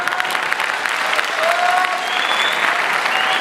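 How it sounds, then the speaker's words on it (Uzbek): A concert audience at an Uzbek stage show claps in a dense, continuous wave of applause, loud and close, holding steady and swelling slightly near the middle. "Yo, rostdan ham qarsak chalmanglar, xafa bo'laman."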